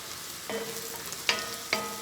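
Butter hitting a pan on high heat for Louisiana Cajun crawfish corn maque choux, giving short sizzling bursts with a few sharp crackles and a stirring scrape, close and fairly quiet.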